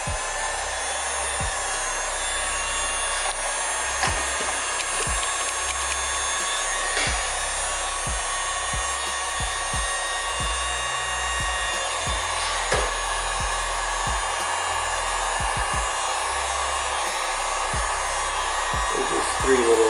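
A heat gun warms the edges of carbon fiber vinyl wrap on an iPad Pro, giving a steady, close blowing hiss that runs continuously with faint handling taps and rubbing underneath.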